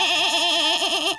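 A cartoon goat bleats in a long, wavering, warbling cry, loud and close, sustained for over a second without a break.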